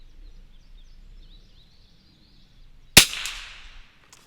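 A vintage Winchester 67A single-shot .22LR rifle fires one sharp, loud crack after a quiet stretch, with a short ringing decay outdoors and no speech.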